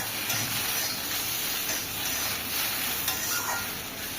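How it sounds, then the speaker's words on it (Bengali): Salted okra fries slowly in a covered pan over low heat with no added water, giving a steady, close, dense sizzle and hiss that holds at an even level throughout, with no voices. "ঢাকা দিয়ে মানে স্লো আঁচে এটাকে ফ্রাই করতে হবে"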